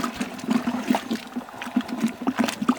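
First runnings of wort drain from a homebrew grain mash, a close, bubbly trickle and splashing of liquid that runs continuously with small gurgling pops.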